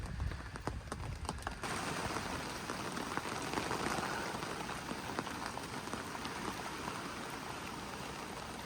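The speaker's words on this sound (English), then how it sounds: "You hear the rain? We're definitely raining." Steady rain patters on the fabric of an Adventure Kings Tourer X rooftop tent, a dense, continuous hiss heard from inside, close and even throughout with no talking.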